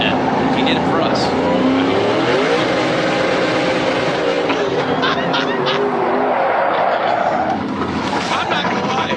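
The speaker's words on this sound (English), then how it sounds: "He just got a little bit aggressive with the throttle." An SRX Series race car at Lucas Oil Speedway roars under aggressive throttle, a loud sustained engine drone with rising and falling pitch sweeps, heard alongside commentators speaking.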